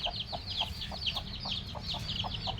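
A mother hen clucks in a quick, regular series of short notes, fairly close, over a low background rumble.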